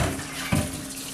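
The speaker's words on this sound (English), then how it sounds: "So we're going to put another gallon of warm water in here" Warm water poured into a home-brew bucket, a close continuous rushing pour with a brief louder gush near the middle.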